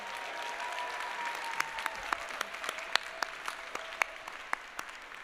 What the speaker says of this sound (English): let's have a round of applause for our band